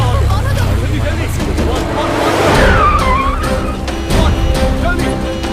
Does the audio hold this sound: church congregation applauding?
no